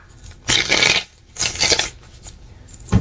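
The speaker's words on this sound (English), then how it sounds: "Let me get one more shuffle" A tarot card deck is shuffled close up in two brisk riffling bursts with a short pause between them, then a third burst starts at the end.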